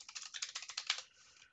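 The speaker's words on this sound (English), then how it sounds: "Gonna do a lot of typing tonight, I guess." Rapid, light clicking of keys on a computer keyboard, about a dozen quick taps in a short burst, faint and close with no voices.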